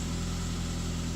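A Saab car engine idles steadily after a cold start, giving a continuous low rhythmic rumble up close with no talking.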